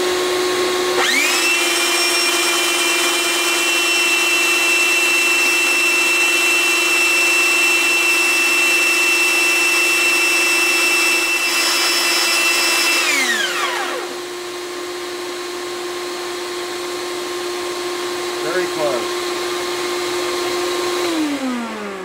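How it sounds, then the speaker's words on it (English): A power tool grinds down a bone saddle for an acoustic guitar, a loud steady high whine with bright harmonics running for about twelve seconds, then the motor winds down and spins on more quietly until near the end. "hold it here until I grind the saddle down to the vise there"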